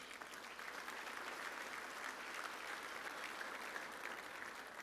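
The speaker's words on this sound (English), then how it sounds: "Please give a round of applause to Jay Conley for the work they do to help this organization." A seated awards-event audience claps steadily for an honoree, a continuous even patter of many hands heard from a distance and fairly faint.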